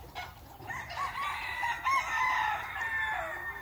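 A rooster crows once in a long drawn-out call close by, preceded by a few clucks, over a quiet farmyard background.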